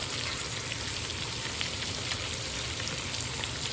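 Broccoli, tomato, onion and spring onion sizzling in a pan for veg pulav, a steady close hiss of frying with faint crackles throughout, no voices.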